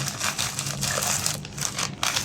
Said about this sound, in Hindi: ऐसे करके कुरकुरे को चूर चूर कर देंगे